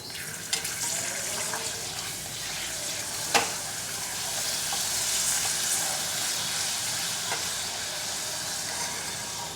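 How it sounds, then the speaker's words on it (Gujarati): Pepper papad fries in hot oil with a loud, continuous sizzle and crackle close by, a sharp utensil tap near the start and a few lighter clicks, with no voices. "તો અહીં આપણે તેલમાં એક એક પાપડ તળાવવા માટે મૂકતા જઈશું"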